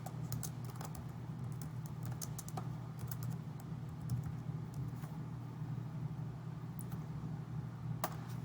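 Someone types on a computer keyboard while filling in a chronological resume: quiet, irregular key clicks in short runs over a steady low hum, close by, with no talking.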